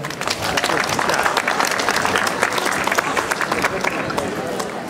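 Audience applause after a certificate presentation at a 112 emergency-services day event in Veldhoven, close, dense, steady clapping with faint crowd murmur throughout.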